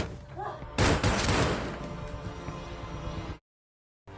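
Gunfire in a film fight scene erupts as a loud burst of rapid shots and heavy blasts that keeps going for a few seconds, then cuts abruptly to silence.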